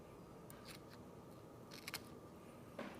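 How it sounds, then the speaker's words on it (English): Small scissors snip under the skin of a walleye's gill flap during taxidermy, a few faint, sharp metallic clicks spaced irregularly in a quiet room, with no talking. "I'm going to stick the tip of the scissors right under the skin"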